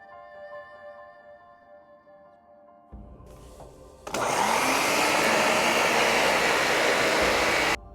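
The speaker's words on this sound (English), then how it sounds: "as I turned on the vacuum" A vacuum cleaner switches on in a home gym build space, a faint hum and click first, then a loud, steady roaring whine that holds at full strength for several seconds before cutting off.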